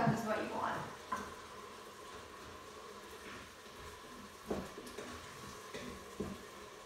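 Red wine sizzles and bubbles as it reduces in an Instant Pot with short ribs, a soft steady crackle with a few stirring scrapes and clinks, close up, with brief talking at the start.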